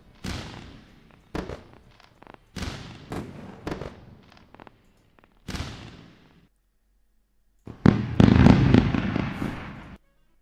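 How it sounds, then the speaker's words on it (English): A fireworks sound effect plays on a live futures trading stream: a run of sharp crackling bangs and bursts with brief gaps, then a louder, denser crackling volley near the end. "the fireworks are off"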